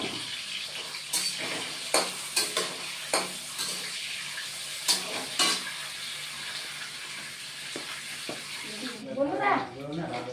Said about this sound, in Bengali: সাজনাটা আমি আগে ভেজে নিই।